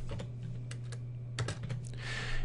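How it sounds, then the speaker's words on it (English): Typing on a computer keyboard, a short close burst of quick key clicks in uneven rhythm, ending in a quicker flurry of taps, no voices. "let me click over here in the text panel and type"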